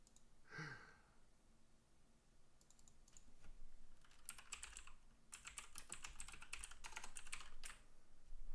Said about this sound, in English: I know y'all hear me typing up here.